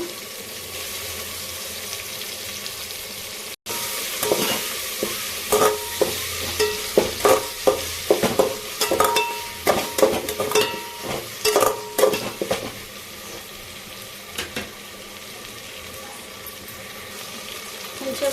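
Tomatoes and salt frying on a low flame for prawn biryani: a continuous sizzle broken by a run of sharp, rhythmic spatula scrapes and clinks against the pan, fairly close, then easing off.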